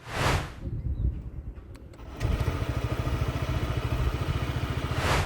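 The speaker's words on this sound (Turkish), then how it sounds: "Honda'nın PCX model motosikleti çalıştığı zaman herhangi bir elektrik motoru sesi bile duymuyoruz." A Honda PCX scooter engine fires up almost without any starter noise and settles into a steady, close putter.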